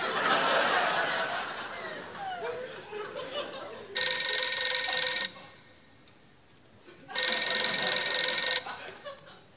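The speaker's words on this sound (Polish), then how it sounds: "Telefon dzwoni." A telephone rings in two long bursts separated by a pause, loud and electronic, following a stretch of people talking and laughing.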